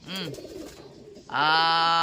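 A racing pigeon arriving at its loft during a derby race gives soft cooing calls, a short coo followed by a louder sustained tone, close by and without talk.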